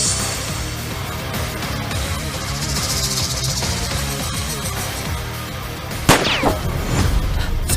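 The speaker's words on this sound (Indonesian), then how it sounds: "Tembakan awal langsung 10 poin." A single sharp, loud gunshot cracks out near the end of a shooting competition scene, rising above a busy background of music and rumble, followed by a brief ringing tail.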